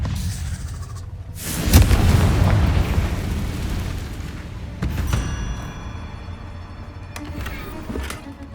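A Confringo fire spell explodes in the game Hogwarts Legacy with a loud, booming burst that rolls on for a couple of seconds. Softer thuds and crackling impacts follow amid game noise.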